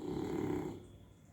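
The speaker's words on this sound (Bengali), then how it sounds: "শুনলে কিরকম নাক ডেকে ঘুমোচ্ছে?" A dog snoring while asleep after a bath, a single close, low, rumbling breath that fades toward the end.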